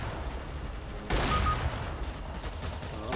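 Gunfire in the video game CS:GO, a sudden burst of rapid shots that bursts out of steady game noise and then trails off into a dense, continuing background.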